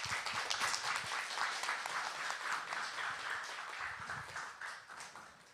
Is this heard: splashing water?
no